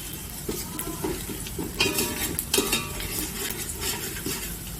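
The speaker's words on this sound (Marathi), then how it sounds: "आता कांदा भाजत आलेला आहे" Sliced onion fries in very hot oil while a spoon stirs it, a soft continuous sizzle punctuated by scraping and clinking strokes against the pan at an irregular pace.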